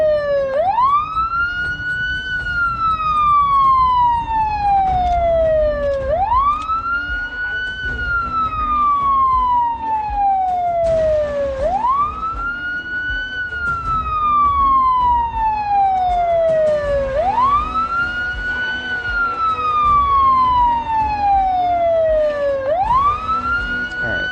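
An ambulance siren wails in Project Zomboid, loud and close, rising and falling in a slow repeating cycle of about six seconds.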